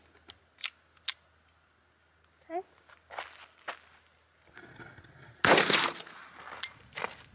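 A Phoenix HP22A .22 pistol fires CCI Mini Mag rounds outdoors, several sharp reports spaced irregularly, one much louder burst near the end, with footsteps or handling noises between shots.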